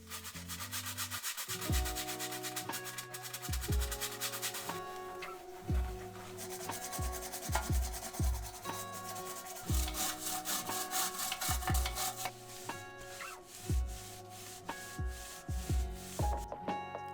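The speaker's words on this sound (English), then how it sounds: "I'm going to wipe this metal out with an automotive cleaning wipe" Metal inside an old, dirty Xbox console being wiped with an automotive cleaning wipe makes repeated close rubbing and scrubbing strokes, steady and moderately loud, with no speech.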